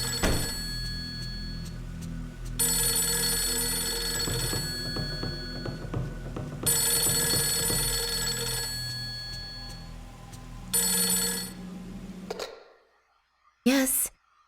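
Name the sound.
telephone ringing in the video game Fatal Frame 3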